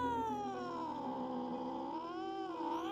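A half-dead cat growls in an audio-drama scene, a close, drawn-out caterwauling moan that rises and falls in pitch across the whole stretch.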